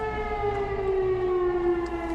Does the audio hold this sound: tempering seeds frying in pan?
no